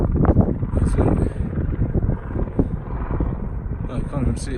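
A helicopter flying near Lobuche on the Everest trek makes a rumbling, buffeting drone with wind gusts against the microphone, and voices speak over it.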